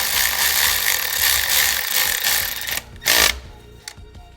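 Ratchet tightening a part during a K24 engine build in an EG Civic, a dense stream of rapid metallic clicks for nearly three seconds, then a brief louder burst and a faint click near the end.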